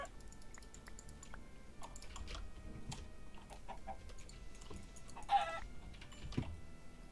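Chickens in the Minecraft video game give soft, scattered clucks at low volume, mixed with rapid keyboard and mouse clicking throughout.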